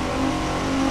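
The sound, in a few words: Nissan Skyline R34 GT-R launching, revving, in The Crew 2 video game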